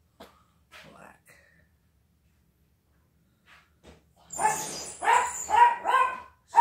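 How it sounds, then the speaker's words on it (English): A dog barks several times in a quick cluster near the end, loud and close, after mostly quiet moments with a few faint sounds in an indoor setting. "Shut up, dog!"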